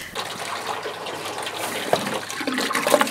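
Water sloshes and gushes in a hand-operated washer during laundry washing by hand on a homestead, a close, continuous churning with small splashes and clicks.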